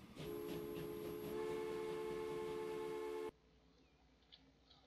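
Freight train running in Transport Fever, a steady rumbling roll with sustained whistle-like tones, loud and continuous, then cutting off abruptly to a faint low hum.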